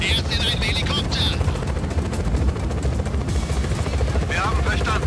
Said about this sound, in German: Hey, Zentrale, er ist in einem Helikopter.